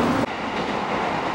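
A JR East last train runs on the rails toward Fukuroda station, heard as a steady, close rumble of wheels and carriage for a brief moment, with one short bump early on.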